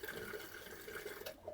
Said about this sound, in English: Sink, I get good water pressure